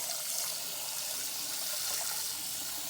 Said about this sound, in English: I just want you to keep running that cold water, overflowing for at least a couple of minutes.